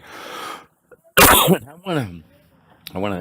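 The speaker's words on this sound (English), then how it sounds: "Sorry, I've got a cough here." A person with bronchitis gives a sharp, forceful cough, followed by voiced throat sounds and the start of speech, recorded close up.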